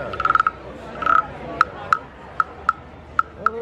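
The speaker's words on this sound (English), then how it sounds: "They're croaking. Frogs croaking." Toy frog croakers at the Florida Strawberry Festival in Plant City, Florida, give a rapid burst of raspy clicks, a second burst, then single sharp croaks at steady intervals, loud and near over a low crowd murmur.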